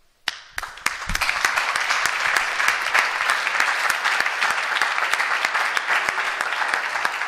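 Audience at a photography talk during the 36th Fotogramma event in Genoa bursts into applause after a quiet moment, building into a dense, sustained clapping from a roomful of people, fairly close and without speech.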